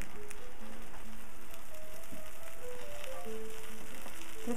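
Coated fish frying in a pan, a steady soft crackling sizzle at moderate level, continuous and even with no talking over it.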